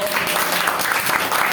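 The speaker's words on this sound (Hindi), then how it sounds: "जोरदार से तालियां दो।" Congregation clapping together during a church sermon in Tripura, a steady dense wash of applause filling the short span with no clear breaks.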